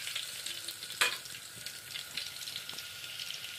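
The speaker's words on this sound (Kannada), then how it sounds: "ಎಣ್ಣೆ ಚೆಂದಾಗಿ ಇದಕ್ಕೆ ಒಂದು ಸ್ವಲ್ಪ ಫ್ರೈ ಮಾಡ್ಕೊತೀನಿ ರೀ." Crushed garlic frying in hot oil gives a steady, quiet sizzle with a sharp stir or clatter near the start and small crackles throughout, with no talking.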